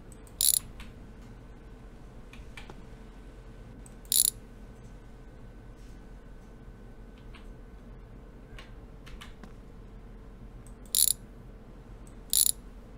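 Short bursts of ratchet clicking from unbolting car parts in the My Garage video game, four separate brief runs spread over a steady low mechanical hum, with no talking.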